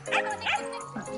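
A small Shetland Sheepdog gives a few quick, high yappy barks close by, with a slight whiny edge.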